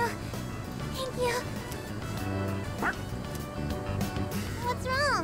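A dog barks and yips in the Persona 3 Reload video game, several short sharp barks scattered over the game's background music and sound effects, moderately loud and close.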